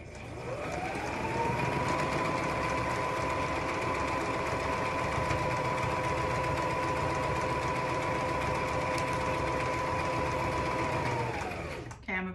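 A sewing machine stitches a narrow seam on a child's hat, spinning up to a steady hum that holds for about ten seconds before winding down and stopping.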